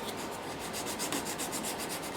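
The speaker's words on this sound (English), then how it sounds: "I'm just going to do some sanding." Sandpaper rubs over the wooden body of a Yamaha FG 335 acoustic guitar in quick, even back-and-forth strokes, a soft rasping scrape close by with no voices.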